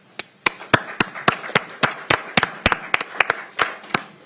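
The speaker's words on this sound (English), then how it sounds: "Let's give them a round of applause" Scattered, distinct claps from a small group at a Pierce County council meeting, irregular and fairly close, a few hands clapping unevenly for about four seconds with no talking over them.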